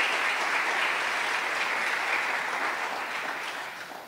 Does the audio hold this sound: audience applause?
yes